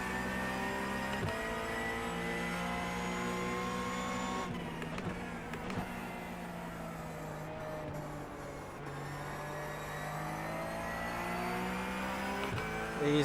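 Race car engine in a sim racing video game, a steady droning whine with shifting revs through gear changes and throttle lifts, constant and moderately loud throughout with no talk.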